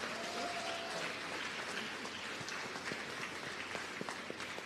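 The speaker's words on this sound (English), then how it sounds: "Ladies and gentlemen, please, please give her another round of applause." An audience applauds a keynote speaker, a continuous soft wash of clapping from many hands with a few sharper claps near the end, moderately distant, alone without speech.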